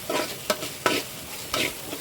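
Okra being fried for thoran in a large pan is stirred with a few quick scraping strokes over a soft, steady sizzle, heard close and without talking.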